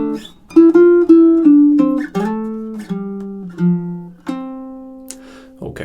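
Baritone ukulele playing two measures of a melodic riff, distinct plucked notes stepping down in pitch at a moderate pace, ending on a held last note, close and clear.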